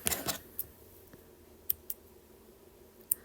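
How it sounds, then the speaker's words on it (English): Scissors snipping thread while hand sewing a hexagon quilt flower, with a fabric rustle at the start followed by a few small sharp clicks spaced apart, close and quiet. "then we'll cut our thread"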